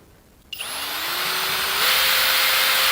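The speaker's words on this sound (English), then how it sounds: "Just drill them out like that." A power drill bores out rivets on the rear cover of a mini excavator, starting abruptly with a whine that rises in pitch and steps up once as the bit cuts through, loud and close without talk.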